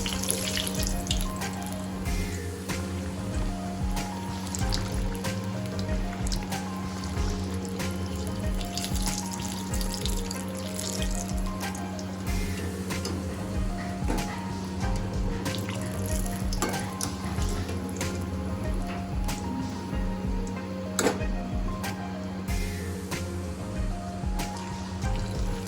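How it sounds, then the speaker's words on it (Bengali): Pea-stuffed kachori (koraishutir kochuri) frying in hot oil over a medium-high flame, giving a steady, close sizzle with soft crackles over a constant low hum. No one speaks. "এবার আমি কচুরিগুলো আস্তে আস্তে ভেজে নিয়ে তুলে রাখবো।"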